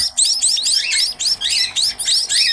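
Rapid high-pitched chirps from a small munia (Javan munia, emprit), repeated in quick bursts, close and fairly clear over a faint low background hum.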